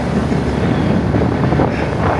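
Motorboat ride out of a port in Bohol, Philippines, past mangroves: a steady, loud engine drone mixed with heavy wind buffeting the microphone, continuous throughout with no talk.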